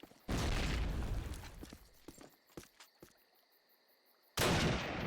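Grenade blast in Call of Duty (2003), two heavy booming explosions, one at the start and one near the end, with scattered gunshot cracks and thuds in between.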